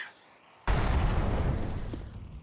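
An incendiary grenade bursts in a first-person shooter game, a sudden loud blast after a quiet start that leaves a sustained roaring, crackling burn for the rest of the moment.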